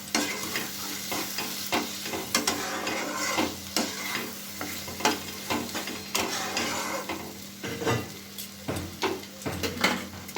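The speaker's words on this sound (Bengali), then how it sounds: "এবারে ভিজে রাখা চিংড়ি মাছটা এর সাথে দিয়ে কিছুক্ষণ নাড়াচাড়া করে নিচ্ছি।" Soaked prawns being stirred into fried spice paste in oil for a Bengali prawn and potato curry, with repeated spatula scrapes and clinks against the pan over a continuous close sizzle, irregular in rhythm.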